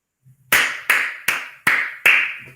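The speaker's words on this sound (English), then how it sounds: "Can you clap for me?" Five sharp, evenly spaced hand claps ring out one after another, close and crisp with brief silence between them.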